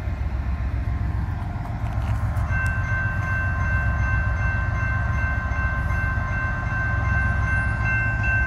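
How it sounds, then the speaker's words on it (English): A train rolls slowly along the track near a small town crossing in Valley Head, Alabama, with a steady loud low rumble of wheels throughout and sustained high tonal squeal or whistle joining partway through. "There's the train slowly poking down this way."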